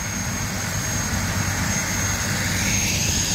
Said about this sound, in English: Sheriff's helicopter taking off.